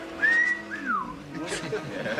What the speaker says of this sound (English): This one would tear that whistle out of your throat.